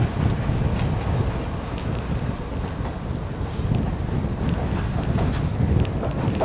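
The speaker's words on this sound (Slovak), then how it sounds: "Ako je to super zážitok takto ísť vo vlaku vedľa mora, niekoľko kilometrov." A train runs beside the sea near Kalutara, Sri Lanka, giving a constant rumbling roar of wheels and carriage mixed with heavy wind buffeting the microphone, with no speech.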